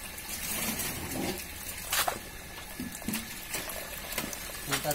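Water splashing and trickling as it is poured out during a home catfish harvest, a steady wet wash with a few sharper splashes, moderately near.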